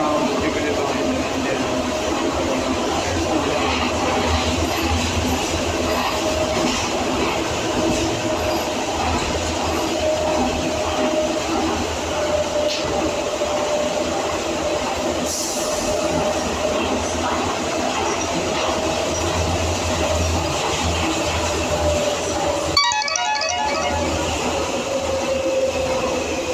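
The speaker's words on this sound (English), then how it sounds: "okay, this train terminates here." Onboard a Docklands Light Railway train running from Canary Wharf toward London City Airport: constant rolling rumble and motor whine, a sharp squeal partway through and a short dropout near the end.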